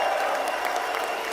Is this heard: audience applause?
yes